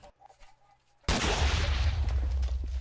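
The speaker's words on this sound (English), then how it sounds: "It's a rocket launcher." An RPG-7 rocket launcher in Minecraft's Flans Modpack fires with a sudden loud blast after a quiet moment, followed by a sustained rumbling roar that stays heavy and low until the end.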